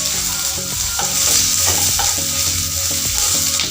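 Sliced onions fry in a pan with a steady, close, loud sizzle, broken by the clatter of stirring, with no voices.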